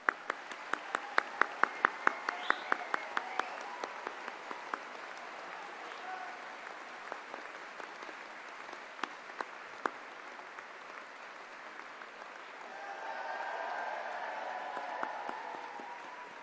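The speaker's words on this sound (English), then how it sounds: "join me in thanking them with another huge round of applause" At a university graduation ceremony, a large audience gives a sustained round of applause, opening with sharp nearby claps and settling into a soft, even wash of clapping across the hall, with murmuring rising near the end.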